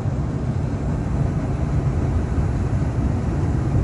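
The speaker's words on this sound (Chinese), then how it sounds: "电车启动，请站稳扶好" A Wuyi Line 1 tram, Fujian's first tram line, pulls away and runs, heard from inside as a loud, steady, broad rumble that holds even throughout.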